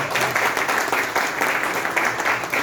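Listeners at a poetry gathering clap in a dense, even burst of applause that carries on steadily from start to finish.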